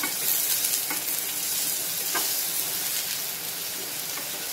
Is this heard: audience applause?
no